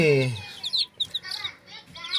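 Young wild junglefowl cross chicks, third generation and a few days old, give a quick string of high, thin peeping chirps up close, with a brief low voice at the start.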